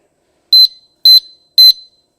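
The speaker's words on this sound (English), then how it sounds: "It's 110 dB alarm." A 110 dB disc brake lock alarm fitted to a Honda Grom motorcycle sounds three loud, shrill, evenly spaced electronic beeps, each short and sharp with a brief ringing tail.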